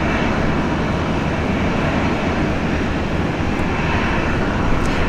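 An Air Canada airliner landing on runway 01 right at Brisbane International Airport, heard as a loud, steady, broadband jet roar that holds constant throughout with no voices.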